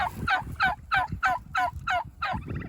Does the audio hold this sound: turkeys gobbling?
yes